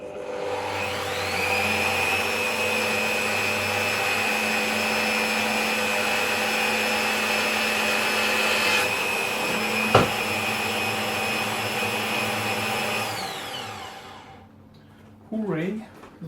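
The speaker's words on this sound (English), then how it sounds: "The first holes are drilled." Power drill boring holes through a metal chassis for an all-pentode 120 W tube amplifier head, a loud steady whine running about fourteen seconds before winding down, with a brief clunk midway.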